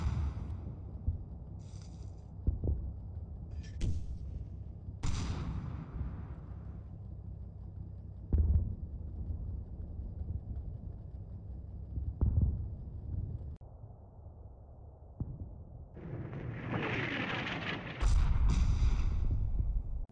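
German mortar and artillery rounds fall in a Combat Mission Battle for Normandy battle, with repeated heavy booming impacts scattered across the scene, some near and loud, others duller and farther, plus a rushing burst of debris near the end.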